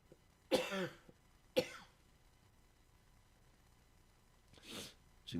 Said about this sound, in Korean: 항상 이 시간이 되면 기침이 너무 심해서